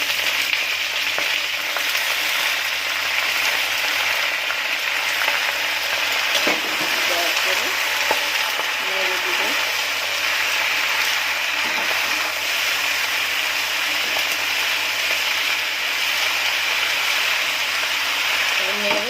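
Malabar spinach sizzling and frying in a pan with green chillies, a steady close hiss with faint stirring scrapes running the whole time.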